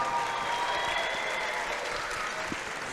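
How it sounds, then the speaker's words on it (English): A crowd at a mixed martial arts fight night applauds the fighters in the cage, sustained even clapping heard from a distance and gradually easing slightly. "Ladies and gentlemen, a big round of applause, please, for both of the fighters in this cage."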